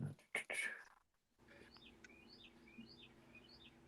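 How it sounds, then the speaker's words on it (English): A pet bird indoors gives a series of short, bright chirps spaced a moment apart over a faint steady hum, following a brief burst of louder noise and a soft voice at the start. "Whose bird is that?"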